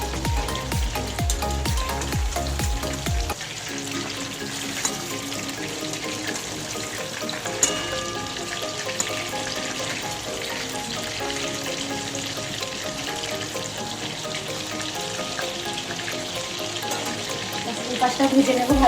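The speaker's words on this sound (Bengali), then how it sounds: "এবার আমি গ্যাসটা কমিয়ে দিয়ে আস্তে আস্তে ভাজবো।" Pakoras sizzle in hot oil in a pan, a steady crackling fry that drops to a softer, lower bubbling once the gas is turned down, continuing alone without talk.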